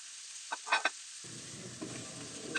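Potato and carrot pieces dropped into a hot kadai of oil, a few sharp knocks and clatters followed by a steady, close sizzle of frying vegetables.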